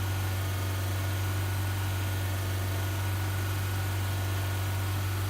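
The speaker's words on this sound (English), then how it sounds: "Revving the engine at about 3000 RPM and simultaneously pulling the handbrake" A car engine revved and held at about 3000 RPM with the handbrake pulled gives a steady, unbroken droning hum with a strong low tone, close and constant, with no talk.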